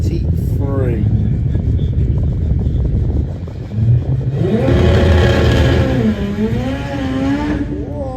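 A drag racing car launches hard down the Santa Pod strip on a test day, its engine roaring loud and close with rising revs after a rumbling start, while a commentator talks over it throughout.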